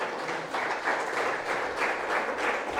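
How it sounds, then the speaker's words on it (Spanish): A church congregation claps together in a sustained, even burst of applause with no voices over it. "Dale un aplauso al Señor."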